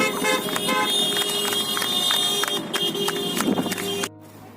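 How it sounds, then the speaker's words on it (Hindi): Car horns honk repeatedly in a busy London street, steady and loud, with crowd noise and clapping underneath before cutting off abruptly near the end. "ये लोग हॉर्न बजाते अपना सहयोग दे रहे हैं।"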